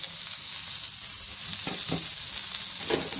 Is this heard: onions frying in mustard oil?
yes